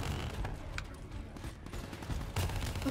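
Bursts of rapid gunfire in Black Ops 3, faint crackling volleys of shots scattered through a busy multiplayer soundscape.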